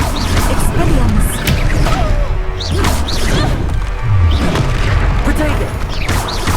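Spell combat from Hogwarts Legacy, a disarming spell cast amid repeated loud booms, whooshes and crashing impacts throughout, with voices talking over the fight.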